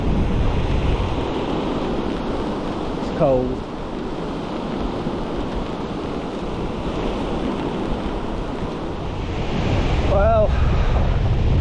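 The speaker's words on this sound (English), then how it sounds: "There's a good lump to the sea, as you can see." Sea surf and gusty wind on the beach at Cleveleys on a rough, rainy day, a steady loud wash of breaking waves with wind buffeting the microphone throughout, while someone briefly speaks.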